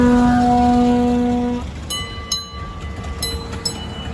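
A train passes with a loud steady horn tone, then clattering wheels and metallic rail clicks and squeals continue at a more moderate level, with no talking.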